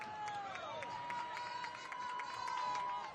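A home crowd at a high school varsity football game between Holliston and Medfield keeps up a steady roar and cheer, with a few whistles rising above the sustained noise of the stands.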